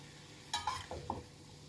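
Food stir-fried in a pan: a soft steady sizzle with a few quick, close clinks and scrapes of a utensil against the pan.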